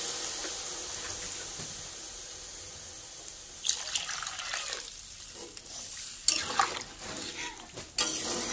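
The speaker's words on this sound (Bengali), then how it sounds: "জলটা দিয়ে দিচ্ছি।" Water poured into a pot of simmering fish curry with elephant foot yam, a soft steady splashing and trickling, followed by irregular clinks and stirring noises toward the end.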